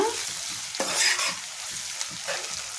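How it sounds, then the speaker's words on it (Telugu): Onions fry in a pan with a little salt for an egg and dry fish curry, crackling in a soft close sizzle while a utensil stirs and taps now and then. "చూడండి ఉల్లిపాయలు ఇలా వేగినాయి కదా"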